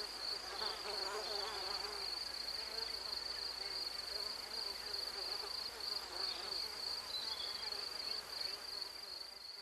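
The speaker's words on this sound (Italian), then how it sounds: "Le mosche cavalline si nutrono del sangue dell'animale sul quale si posano" Horseflies buzz around lions outdoors in a steady, droning hum of several insects. A thin high whine persists throughout.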